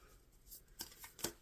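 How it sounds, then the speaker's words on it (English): Crisp papery riffles of tarot cards being shuffled, a few quick bursts with short pauses between, close by and fairly quiet. "I'm shuffling for the Libra Collective."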